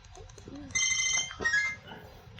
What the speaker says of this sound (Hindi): काफ़ी देर के बाद रिंग की आवाज़ आ रही है